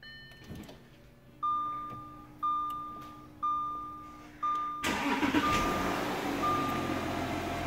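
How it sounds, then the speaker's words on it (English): A diesel vehicle starting by remote starter: several rising chime beeps spaced about a second apart over quiet idle noise, then the engine cranks and catches into a steady running rumble with repeated beeps. "So we can go ahead and test our remote starter."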